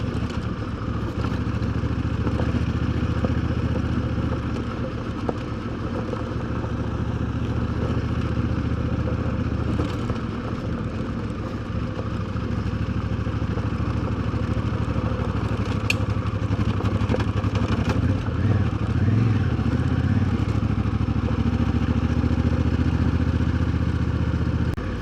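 A Honda Africa Twin motorcycle on a ride, its engine running steadily beneath constant rumble and wind noise for the whole stretch, with no talking.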